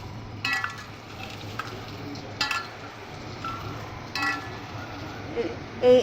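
Potatoes dropped into hot oil in a home kitchen for a potato curry, giving a soft sizzle with a few clinks and stirring scrapes, faint and intermittent.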